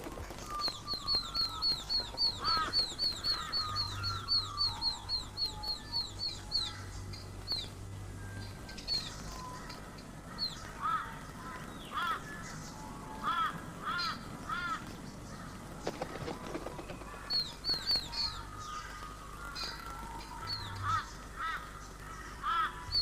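Young dollarbirds calling to be fed from a branch with several connecting nest holes, set in a Queensland tree cluster: repeated high, squeaky begging chirps in bursts, with other scattered bird calls and a low background hum.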